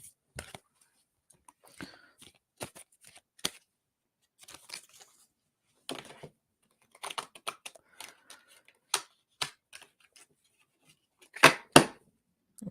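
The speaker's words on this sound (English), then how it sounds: "I shuffled my cards wrong. I'm trying to fix them real quick." A deck of tarot cards is shuffled and tapped at a reading, giving soft, scattered riffling and sharp flicks in uneven bursts, the loudest snaps near the end.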